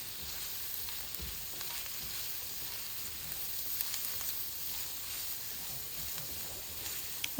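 Onion, carrot and cabbage fry in a pan for a moong bean pulao, giving a soft, steady sizzle and hiss with a few faint clinks near the end.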